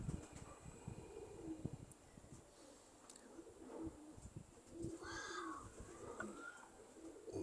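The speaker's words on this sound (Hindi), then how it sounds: "ये ऐसे कबूतर है जी।" Teddy pigeons cooing in a loft, with soft, low repeated coos and a few brief calls over faint background rustling and clatter, fairly quiet and close.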